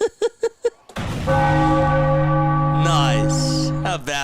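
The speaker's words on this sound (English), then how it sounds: "Ring the bell." A celebratory bell rings after the Philadelphia Phillies close out a win over the Miami Marlins, its sustained ringing tone lingering for several seconds between brief bursts of excited voices.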